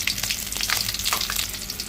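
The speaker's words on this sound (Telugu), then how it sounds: "పోపు దినుసులు మంచిగా వేగాక ఇందులో పచ్చిమిరపకాయలు, ఉల్లిపాయలు వేసుకుందామండి." Green chillies and onions frying in hot tempering oil with mustard seeds and chana dal, a loud, dense crackling sizzle with rapid spitting pops throughout.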